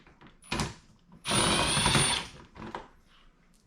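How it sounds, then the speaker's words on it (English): An impact driver with an Allen socket removes bolts, firing a brief buzz followed by one longer rattling burst of about a second and a short final hit, close and fairly loud with quiet gaps between. "So I just use this Allen socket on an impact. Just take out these two bolts here."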